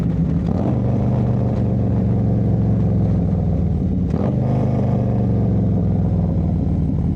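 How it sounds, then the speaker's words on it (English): Motorcycle engine with a Stage II upgrade, 107 cubic inch, rumbling loud and close through steady revs, with a shift dip about four seconds in before it pulls back up. No talk. "those downshifts are crazy"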